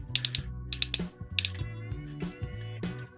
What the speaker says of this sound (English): And a lower leg swivel. Very loud and clicky